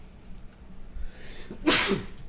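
A single sharp sneeze bursts out close by after a quiet, breathy pause.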